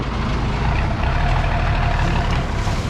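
A truck carrying a water tank for a humanitarian delivery in the Philippines rumbles steadily as it pulls away. The engine is loud and close, with a continuous low drone and no pauses.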